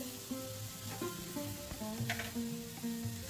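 Grated coconut fries in a pan for coconut rice before jaggery goes in, a soft steady sizzle under faint background music.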